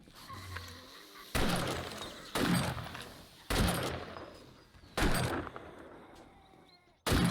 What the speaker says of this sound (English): Just hear gunshots off in the corner.